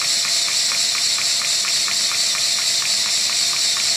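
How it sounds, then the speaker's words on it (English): A working Lego vacuum engine running, a continuous hissing, airy rush with a fast, even rhythmic ticking pulsing through it, loud and close without pause. "a functional working Lego engine is just hard to beat"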